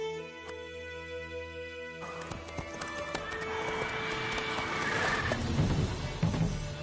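Hooves of Roach, a horse in The Witcher 3, clip-clop steadily and close, gaining pace into a gallop over a busy game soundtrack with a neigh.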